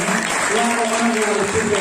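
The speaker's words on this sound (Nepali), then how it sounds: "हामी परमेश्वर ताली बजाएर धन्यवाद दिन्छौँ" A church congregation claps together in thanks to God, a dense, steady patter that runs for the whole stretch while a voice carries on over it.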